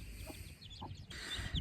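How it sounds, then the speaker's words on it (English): Chickens clucking on a South African homestead, with short, soft calls scattered across a steady outdoor background, close but fairly quiet. "we now have 10 little extra chickens"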